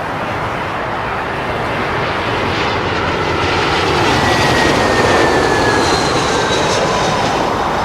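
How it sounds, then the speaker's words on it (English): A British Airways Airbus A320 arriving at London Heathrow from Copenhagen, its jet engines a loud, continuous broadband roar that swells slightly as it passes near, with a thin whine riding on top. "British Airways A320 from Copenhagen."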